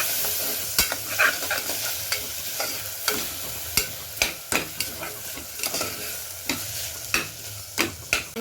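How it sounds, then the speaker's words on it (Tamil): Chopped onions and tomatoes stirred and sautéed in a pan while preparing a mushroom semi gravy, with a steady sizzle under regular sharp clacks of the spoon against the pan, close up. "அதையும் இந்த வெங்காயத்தோடு சேர்த்து ஆட் பண்ணி வதக்கணும்."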